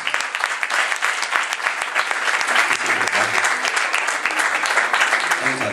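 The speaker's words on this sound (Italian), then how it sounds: "Fabio D'Angelo, un applauso." Dense, steady applause from an audience at a comedy evening in Camerota, many hands clapping loudly and continuously with faint voices mixed in.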